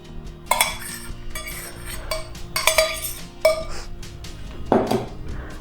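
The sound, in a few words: mixing grape juice with coffee in a bowl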